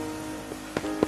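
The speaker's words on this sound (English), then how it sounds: "Now it was raining, and it was dark." Rain falls at night in a soft, steady patter, with a few louder drops striking a surface near the end.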